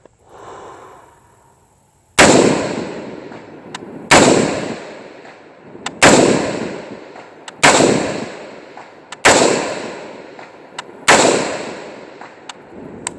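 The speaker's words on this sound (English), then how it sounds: "I'm pretty sure you guys can pick up the sound from the steel" Rifle shots on an outdoor range, from a shooter firing prone with an ACOG-equipped rifle at steel targets out to 300: six loud, sharp reports at steady intervals of roughly two seconds, each trailing off in a decaying echo, with no talk.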